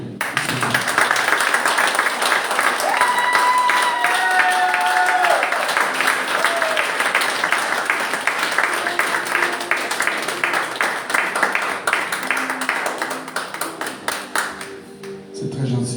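A church congregation claps and applauds continuously, a dense crackle of many hands with a voice speaking over it and a faint tone sounding in the middle.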